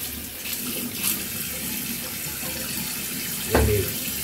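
Tap water runs steadily into a sink while a shaving brush is rinsed under it, a close, continuous splashing hiss with a louder splash near the end.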